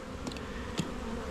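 Honey bees buzzing around an opened hive during an inspection, a continuous close hum with a couple of brief louder passes.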